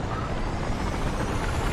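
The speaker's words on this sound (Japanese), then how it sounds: "なんかヘリがいっぱいあるな。 乗っとこ。" A helicopter in the video game Battlefield 4 gives off a dense, steady engine-and-rotor roar that stays constant and loud throughout, with no talk over it.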